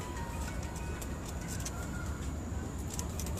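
Golden breed pigeons, including a prized breeding cock, coo softly and repeatedly close by against a steady low background hum, with no talk.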